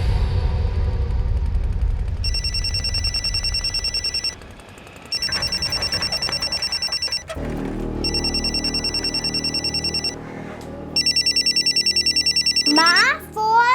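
A mobile phone rings indoors in a police crime drama scene, with repeated bursts of a bright electronic ringtone separated by short pauses, loud and close, alongside dialogue and background music.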